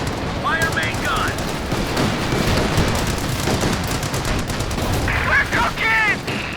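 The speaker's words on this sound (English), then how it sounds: "Fire main gun." Battlefield gunfire from Company of Heroes 2 Ardennes Assault, including a tank's main gun, rattles in rapid continuous bursts, while short voiced callouts cut in near the start and end.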